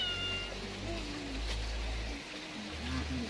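A cat meows a few times in short, rising plaintive calls, fairly close, over a low steady background hum.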